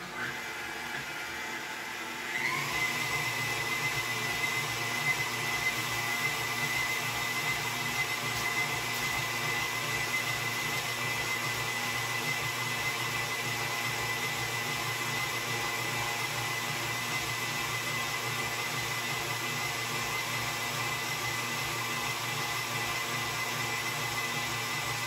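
An electric mixer with a whisk attachment starts up and whirs steadily, beating vegan royal icing with a constant droning hum and rhythmic churning that continues at even volume for over twenty seconds.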